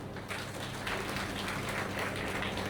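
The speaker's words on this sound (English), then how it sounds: "let's clap for ourselves, please." A room of educators at a teacher orientation claps steadily for themselves. The applause is a continuous, moderately loud patter of many hands that holds without pause.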